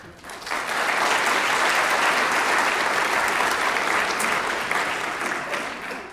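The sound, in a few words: audience applause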